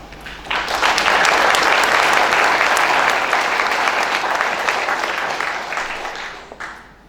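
Sustained applause from an audience at a Clay County community update, welcoming a speaker to the stage; steady dense clapping rises quickly, holds for several seconds, then tapers off near the end.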